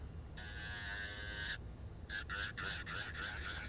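An electric nail drill bit whirs steadily while evening out nails during a dipping powder manicure, its high whine cutting in and out in short bursts over a low background hum.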